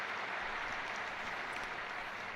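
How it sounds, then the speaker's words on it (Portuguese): Crowd applause after a papal catechesis, a continuous wash of distant clapping from a large gathering, fairly faint and uniform throughout. "Os aplausos demonstram também o carinho e o agradecimento também, não só pela catequese, mas por essa viagem apostólica do Santo Padre à Espanha."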